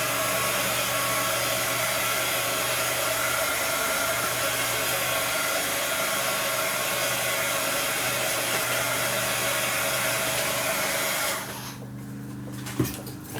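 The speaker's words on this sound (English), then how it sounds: "I am just going to use a blow dryer for just a sec" A hair dryer blows loudly and steadily for about eleven seconds, then cuts off, leaving quiet room sounds and a brief clunk.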